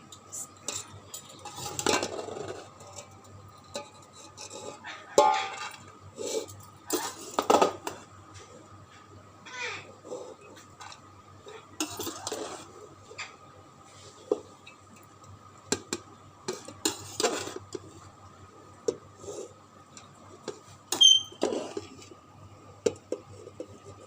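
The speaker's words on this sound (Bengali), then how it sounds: "তো কিছুটা ভাত আমি একটা অন্য হাঁড়িতে তুলে নিচ্ছি।" Cooked rice scooped into another pot for chicken biryani, heard as repeated spoon scrapes and knocks against metal pots at an uneven pace, close and moderately loud with quiet gaps between.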